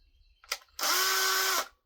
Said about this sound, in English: Boy, that drill's hot.